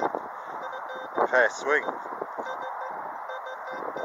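An XP metal detector sweeping a windy field in the UK gives a quick pair of rising electronic chirps, with someone talking over wind noise.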